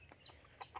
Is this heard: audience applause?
no